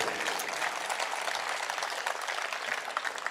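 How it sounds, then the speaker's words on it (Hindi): An audience at a Hindi poetry recitation breaks into loud, sustained applause, a dense crackle of many hands clapping at once that holds steady throughout. "तो एक बार जोर से तालियां उठाइएगा।"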